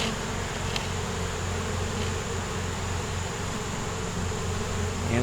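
Swarm of honey bees buzzing steadily around hive boxes during hive work, a dense continuous drone close by with no voices.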